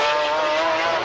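GT race cars of the 1995 BPR Global GT Series scream past the pits at Jerez, a loud, high engine whine sweeping by close in one brief burst.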